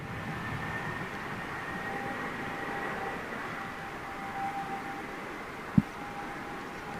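A jet airliner rolls down a grooved runway, giving a steady, fairly faint low rumble with a thin sustained tone over it and a single sharp thump near the end.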